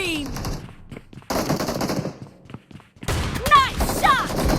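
M1014 shotgun fire in the PUBG Mobile battle game, loud close blasts in quick bursts mixed with other gunfire and game effects, with voices over it.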